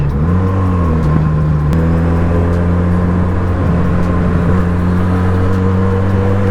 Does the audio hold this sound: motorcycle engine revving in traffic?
yes